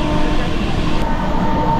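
Shaheed Express 14674 passenger train running at full speed through a station without slowing, a steady loud rushing rumble of wheels and wind throughout.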